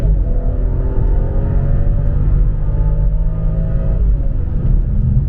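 A BMW X5 35i tuned with Bootmod3 accelerates hard, its deep engine drone rising steadily in pitch through a gear, dropping, then climbing again, loud and close throughout.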